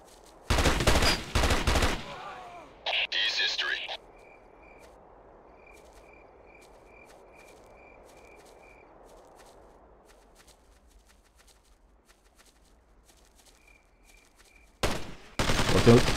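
Gunfire in the video game Ghost Recon (2001): loud bursts of shots open and close the stretch, with quiet cricket-like ambience and faint ticks in between.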